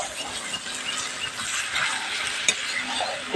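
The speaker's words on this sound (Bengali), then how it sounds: "ভালোভাবে নাড়াচাড়া দিয়ে দিচ্ছি" Duck meat bhuna is stirred and fried in a pan, with a continuous close sizzle and hiss under scraping stir strokes, fairly loud and steady, no voices heard.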